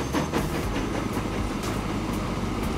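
A freight train loaded with wood pulls away in Transport Fever 2, giving a continuous rumbling roll with rhythmic clickety-clack of wheels over rail joints.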